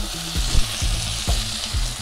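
Chicken roast for a Thattukada-style dish being stirred with curry leaves and sliced green chillies, frying loudly in the pan with a steady broadband sizzle and a few sharp scraping strokes of the spoon.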